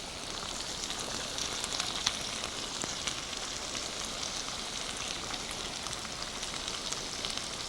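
Vegetables stir-fried in a frying pan, everything but the green onion added: a steady, dense sizzle that stays loud and even throughout, with no voices over it.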